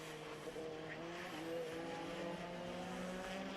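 A racing Honda in a Time Attack event at Knockhill circuit brakes into a corner and accelerates out, its engine note rising in tone, fairly distant and steady throughout.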